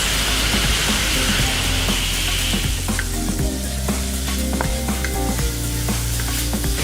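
Pork mince sizzles steadily and loudly in a hot pan as Szechuan peppercorns are tossed in, with crackling spits and scrapes of stirring over continuous frying.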